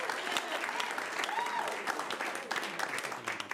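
Late-night comedy show audience clapping, a dense burst of applause that holds steady for a few seconds.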